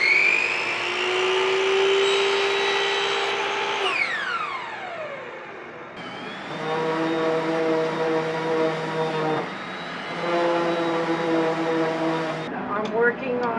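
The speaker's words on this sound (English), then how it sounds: "I'm sanding down the side pieces so that when I glue them, they'll be nice and smooth" A power sander works wooden side pieces for a cutting board in a woodshop, giving a loud whining whir that starts, spins down, restarts and stops again in several runs, with pitch shifting as it loads against the wood.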